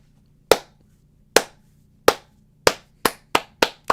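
Hand clapping sounds as eight sharp, separate claps, slow at first and then quickening, loud and close against near silence, with no talking.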